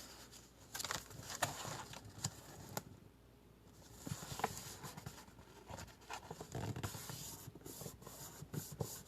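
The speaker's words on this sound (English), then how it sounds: "So now we need to fold this over." Paper pocket card being folded over by hand, close soft rubbing, creasing and crinkling rustles in irregular bursts, quiet with a brief lull midway.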